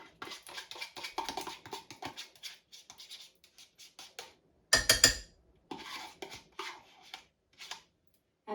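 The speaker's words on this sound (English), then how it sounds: "Now I'm just going to dollop this across the crock pot." A spoon scoops thick, smooth batter and dollops it into a crock pot, making soft scraping taps and a brief louder clatter partway through, all quiet and close.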